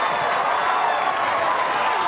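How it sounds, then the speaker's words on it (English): Stadium crowd at a women's A-League football match, Perth Glory against Wellington Phoenix, applauding a goalkeeper's save with steady, dense clapping and cheering that stays even throughout, a commentator's voice faintly mixed in. "she gets a massive round of applause from her defenders and from the fans too"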